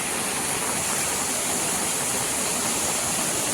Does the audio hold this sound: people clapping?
no